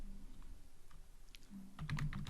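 Code being typed on a computer keyboard gives a quiet run of light, uneven keystrokes that cluster near the end, with no voices.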